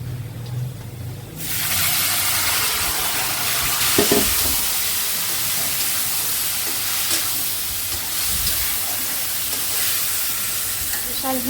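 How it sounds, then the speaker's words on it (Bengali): Greens and potatoes frying together in a home kitchen, a loud steady sizzle that bursts in suddenly and holds, with occasional stirring scrapes and a faint voice underneath. "শাক আলু দিয়ে ভাজি হচ্ছে"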